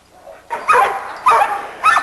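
A small dog whimpers and yips in short bursts, three separate whiny cries at close range, with faint background noise between them.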